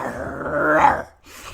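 A person imitates a dog's growl, a close, rough, sustained rumble lasting about a second before cutting off, followed by a brief quieter sound.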